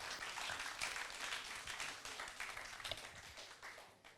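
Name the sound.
applause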